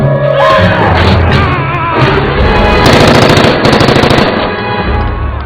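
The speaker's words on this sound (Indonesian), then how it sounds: "mendengar suara tembakan dari kejauhan" Rapid bursts of automatic gunfire in a dramatic film scene, loud and close, with repeated rattling volleys and heavy thuds over a tense musical score.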